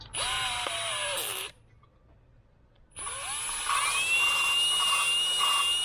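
A power drill whirs in two bursts during valve seal work on a BMW N62 V8 engine, stopping briefly in between, then spins up again with a high steady whine, close and loud.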